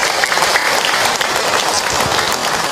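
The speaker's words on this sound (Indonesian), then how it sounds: "Tepuk tangan buat kita semua." A crowd at an Islamic sermon breaks into applause, a dense, steady clatter of many hands that fills the whole stretch without a pause.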